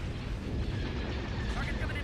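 Turbolaser and ion cannon fire in a Star Wars Empire at War space battle, a dense continuous barrage of booms and bursts with voices talking underneath.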